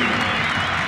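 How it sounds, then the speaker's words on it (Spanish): Stadium applause for O'Higgins captain Pedro Pablo Hernández, retiring from professional football, a dense steady wash of clapping from a large crowd with faint voices mixed in. "Todos los aplausos para él."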